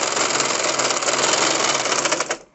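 Electric sewing machine stitching a salwar seam runs in a steady, loud, fast needle whir, close by, for a couple of seconds before stopping.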